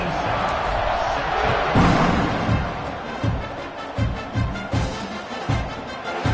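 A home stadium crowd roaring in the College Football 26 video game, a loud, dense, continuous swell of cheering with heavy thumping beats underneath, rising then pulsing rhythmically.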